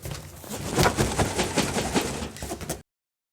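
Rapid hits on a custom SJC snare drum ring out in a dense, loud burst of rolls and accents for nearly three seconds, then stop abruptly.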